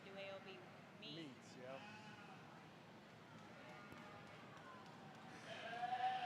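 Dorset ewes bleat in a youth sheep show ring, with a few short, wavering calls standing out over a steady murmur of background voices and barn noise.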